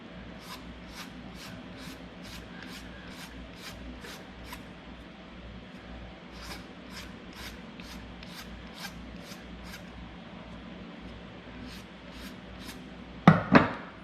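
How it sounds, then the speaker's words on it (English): A hand file is drawn over a piece of wax in quick, regular rasping strokes, a run of crisp scrapes, a short pause, then more strokes, close and fairly quiet, ending with a brief louder knock. "I'm just filing down to that reference mark"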